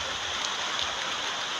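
Heavy rain pours steadily over a small rural vegetable garden, a dense, even hiss with no pauses, close and fairly loud, with no voices.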